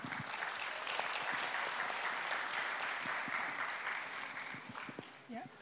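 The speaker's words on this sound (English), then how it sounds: "If we can give her a nice round of applause for putting all that work together." An audience at a school visual arts exhibition and musical event claps for the art teacher in a sustained, even round of applause from a room full of people that tapers slightly toward the end.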